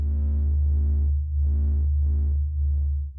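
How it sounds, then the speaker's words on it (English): The sun's oscillating pressure waves, sped up about 42,000 times into audible sound, form a deep steady throbbing hum with soft pulsing swells layered above it. "This is the sound of the sun singing."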